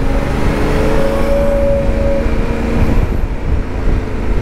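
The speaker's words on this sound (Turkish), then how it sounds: "Ya trafiğe bak Allah aşkına ya." City road traffic at midday heard from a motorcycle, a continuous loud rumble of engines and passing cars with a brief tonal whine, close and steady throughout.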